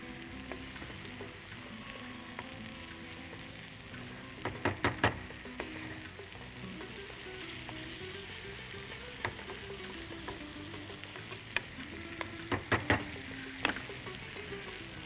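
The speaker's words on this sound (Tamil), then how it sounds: "இப்போ இந்த மசாலா மஞ்சக்கருவோடு சேர்ந்து வேகும்" Masala cooking with egg yolk in a pan gives a soft, continuous sizzle, with scattered scraping clicks of stirring that bunch up in a few spots over the quiet, steady frying.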